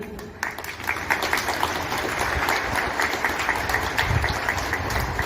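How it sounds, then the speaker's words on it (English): Thunderous applause from a school assembly congratulating the cabinet members, a dense steady wash of many hands clapping that fills the space without pause. "Let us also congratulate all the cabinet members by giving thunderous clap again"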